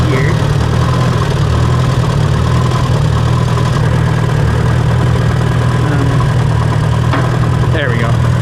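Farmall tractor engine idling in first gear on a farm, a loud steady low rumble that runs unbroken and close throughout, with no talking.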